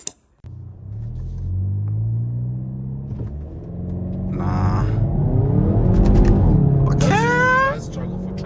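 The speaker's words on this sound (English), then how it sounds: "Yeah, actually, and there's some wheel hop on it." A Hyundai i30N launches hard from a standstill with wheel hop. A low idle rumble swells into a loud, rising engine roar, and tire chatter and a squeal come near the end.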